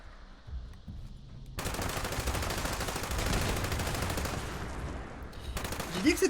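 Sustained rapid gunfire from a weapon in Fallout 76, a dense loud burst lasting several seconds after a quieter opening, with a few extra shots near the end.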